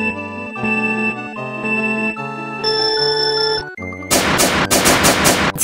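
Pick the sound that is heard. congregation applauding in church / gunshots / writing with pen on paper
gunshots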